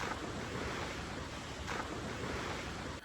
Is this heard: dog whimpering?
no